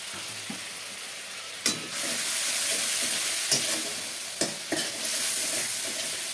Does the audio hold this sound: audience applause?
no